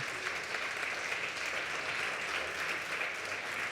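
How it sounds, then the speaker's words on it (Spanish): Steady, dense applause from a church congregation during a Pentecost service, a continuous wash of clapping at moderate volume throughout. "Dele un aplauso a Jesús."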